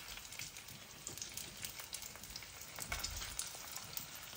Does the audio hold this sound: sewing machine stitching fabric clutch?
no